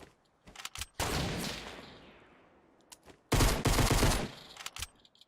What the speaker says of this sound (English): I do this thing where I get some shots happening with my pistol and my pump shotgun